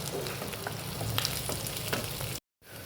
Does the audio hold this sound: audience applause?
no